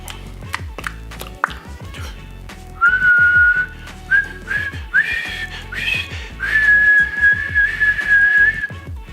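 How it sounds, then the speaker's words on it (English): A person whistles a sustained, wavering melody in clear tones, with brief pauses between phrases, close and fairly loud, preceded by a few short taps and knocks. "Can you whistle?"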